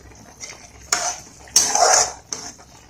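Bread halwa being stirred in a pan, a few separate metallic scrapes and clinks of a spoon against the pan, the longest stroke near the end, close with quiet gaps between and no talking.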